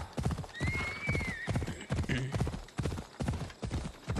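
Horse hooves clopping on the ground in Assassin's Creed Odyssey, a steady rhythmic gallop running throughout the clip, joined by a whinny and other game sounds.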